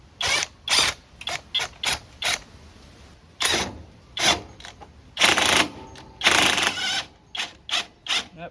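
A jack under a neglected John Deere is spun up with a tool, producing rapid, repeated mechanical ratcheting bursts in an uneven rhythm, close and fairly loud with brief gaps.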